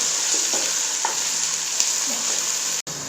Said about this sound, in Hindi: अब इसमें लहसुन अदरक का पेस्ट ऐड करेंगे।